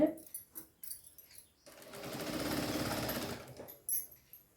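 A sewing machine runs in one continuous burst lasting about two seconds as it stitches lining cloth into the edge of a blouse, with quieter clicks and handling before and after.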